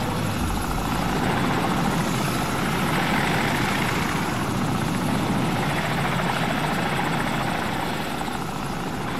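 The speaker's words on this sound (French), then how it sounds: "Hélicoptère ennemi, baissez-vous!" A video game helicopter's rotor in Call of Duty MW4 thrums steadily throughout, loud and close, with a dense broadband engine roar that never lets up.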